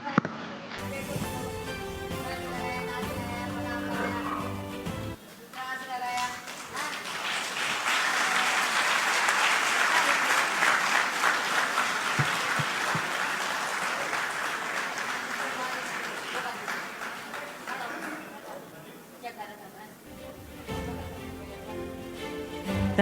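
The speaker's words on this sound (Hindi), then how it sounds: "उन लगातार सम्मान भरी तालियों के साथ" Sustained applause from an awards-ceremony audience at a Hindi media conclave, a dense wash of clapping swelling for about fifteen seconds, with someone speaking before and after.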